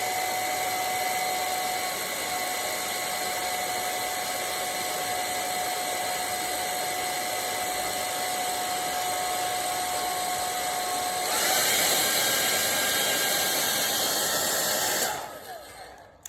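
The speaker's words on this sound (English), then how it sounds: "my handy hairdryer, and I'm just going to give him a bit of a blast to dry him a bit" Handheld hair dryer blowing steadily and close for about fifteen seconds, a constant whooshing hum with a slight shift in pitch near the end before it switches off.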